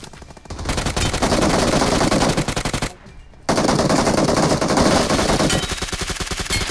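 Video game machine gun fire in rapid sustained bursts, loud and close, with a brief pause partway through before the firing resumes.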